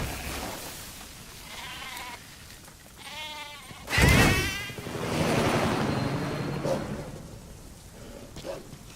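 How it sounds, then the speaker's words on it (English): A goat bleats in the Metal Gear Solid V game, a wavering nasal cry rising and falling around a sharp louder burst midway, set against steady outdoor ambience. "we have a goat here that's been separated from its herd"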